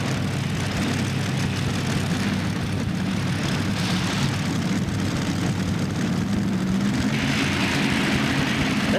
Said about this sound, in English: He just went from 5 engines to 4 engines on that tractor